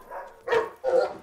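A retired police sniffer dog in a film gives three short barks close by, evenly spaced.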